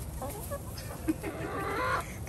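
Chickens cluck and fuss close by in a back yard, a steady run of short clucks and calls with one brief louder squawk partway through, no talk over them.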